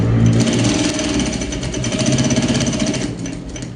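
A sewing machine stitches a kitchen oven mitt, its motor humming loud and close with a rapid, steady needle rhythm running throughout.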